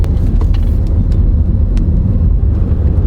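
A Toyota Corolla with over 250,000 miles, an automatic transmission and original struts rolls along on a road test, heard from inside as a loud, steady low engine and road rumble with faint scattered ticks and clicks.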